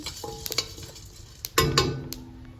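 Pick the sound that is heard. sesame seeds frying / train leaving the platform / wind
sesame seeds frying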